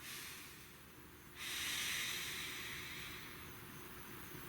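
A single deep, hissing inhalation taken during a guided spiritual meditation, drawn in sharply and then held, soft and close, with no talking.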